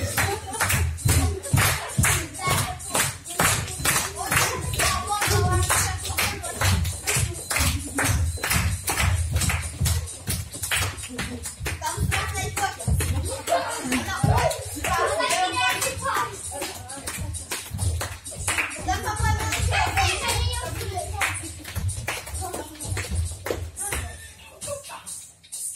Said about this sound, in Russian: Хлопаем, да, родители?